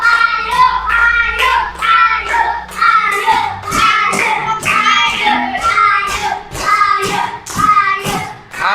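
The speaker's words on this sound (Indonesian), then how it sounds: "Yeay, tepuk tangan." A children's class clapping hands together in a classroom, with rhythmic bursts of claps and children's voices talking and calling out loudly over them.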